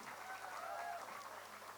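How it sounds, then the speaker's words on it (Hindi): Applause from a live stage audience at Lit Chowk in Indore for actor Avinash Tiwari, a steady wash of clapping throughout with some voices mixed in. "एक बार जोरदार तालियां अविनाश तिवारी जी के लिए।"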